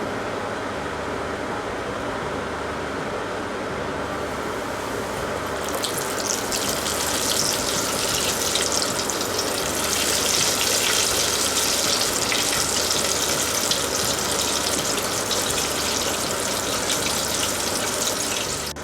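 Flour-coated chicken pieces getting their first fry in hot oil, a steady close sizzle that swells into a loud, dense crackling hiss about a third of the way in and holds there, with no talk.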